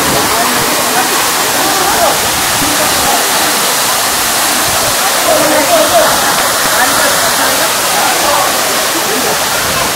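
Fung Fung waterfall at Ranipauwa, Nuwakot, pours steadily as a loud, continuous broadband roar of rushing water, close by and unbroken throughout.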